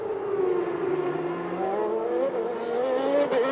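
1991 Formula 1 race cars, a Ferrari and a McLaren, scream through a chicane, their high-revving engines loud and close, pitch falling and rising as they brake and accelerate.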